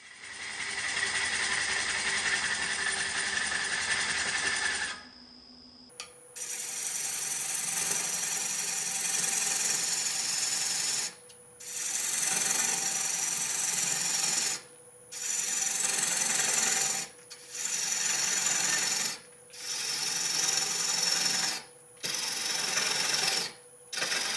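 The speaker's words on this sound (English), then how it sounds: "I started roughing this bowl with my 5/8 gouge" Green quartersawn wood bowl roughed on a lathe with a 5/8 gouge, a steady broadband rasping cut repeated in several long passes separated by short pauses, loud and close with no talking.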